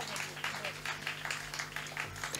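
Children at a three-day Hindon cultural festival applaud with steady, dense clapping that keeps going throughout, with crowd murmur mixed in and a faint low hum running underneath.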